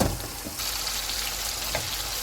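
Mashed tomatoes fry for chicken karahi, giving a steady, close sizzle and hiss with a faint scrape or stir near the start and another soft knock toward the end.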